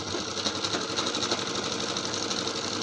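A sewing machine stitches a one-side suit blouse neck piece, giving a loud, steady, fast mechanical whirr with rapid even needle clatter that runs without a break.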